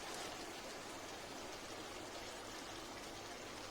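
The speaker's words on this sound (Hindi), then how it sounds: "हम पानी डाल रहे हैं।" Half a glass of water is poured into a pan of potato and minced meat curry, making a soft, continuous rushing splash that stays quiet and even from start to finish.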